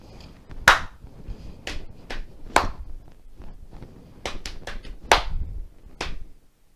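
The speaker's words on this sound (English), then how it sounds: "So I'm going to play you my composition. Alright. So there's my clap, here's my knees." Body percussion played by one performer in a year 6 lesson: sharp hand claps alternating with duller taps on the knees, spaced and irregular in a patterned sequence, close and clear in a quiet room.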